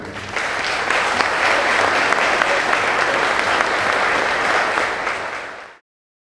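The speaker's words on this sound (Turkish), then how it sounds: "Tun Soyer'e bir alkış rica ediyor." Municipal employees at a holiday greeting celebration clap together in sustained, loud applause that carries evenly for about five seconds and then cuts off abruptly.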